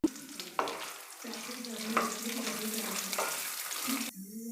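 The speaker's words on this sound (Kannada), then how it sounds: "ಇಷ್ಟನ್ನು ಹಾಕ್ಕೊಂಡು ಎಣ್ಣೆಯಲ್ಲಿ ಚೆನ್ನಾಗಿ ಫ್ರೈ ಮಾಡ್ಕೊಳ್ತೀನಿ" Chopped garlic and small pieces of fresh coconut fry in oil, giving a steady close sizzle with scraping stir strokes; a brief cut near the end leaves a quieter, duller sizzle.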